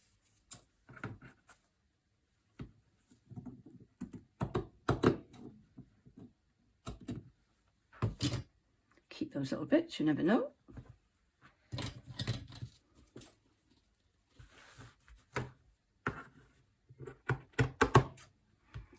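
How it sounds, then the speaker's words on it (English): Large scissors trimming a fabric cover, with intermittent close snipping and handling sounds spread across the stretch, interrupted by brief talking. "So let me just trim that now with my nice scissors."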